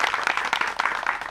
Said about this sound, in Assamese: এই প্ৰশ্নটোৰ উত্তৰ দিয়াৰ বাবে এটা সুন্দৰ হাত চাপৰি প্ৰথমতে হৈ যাব লাগে সকলোৱে